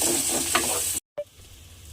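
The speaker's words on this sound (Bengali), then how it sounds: "এবারে প্রথমে আমাকে একটু তেলের মধ্যে দিয়ে নেড়ে ছেড়ে একটু ভাজা ভাজা করে নিতে হবে" Ground green peas sizzle in hot oil in a pan, a steady close hiss broken by a brief silence before the frying resumes more quietly.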